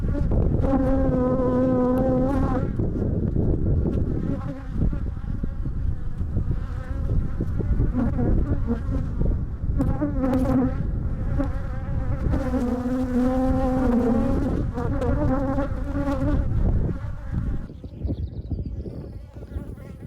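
A swarm of insects, bees or wasps, buzzes loudly and steadily around a caravan near a hawthorn tree in Kayseri, the droning whine rising and falling in pitch as they circle close by.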